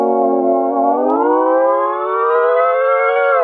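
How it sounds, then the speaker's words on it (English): Sustained harmonic synth chord, loud and close, its pitch gliding steadily upward, somewhat siren-like. "You could also try and just pitch the chord sound."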